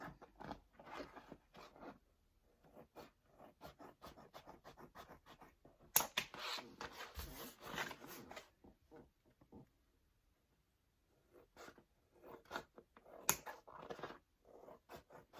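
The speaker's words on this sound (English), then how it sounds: "I'm just going to take my scissors" Scissors snip through a Dollar Tree placemat in short, close, quiet cuts, some in quick runs, with brief louder crunches and pauses between.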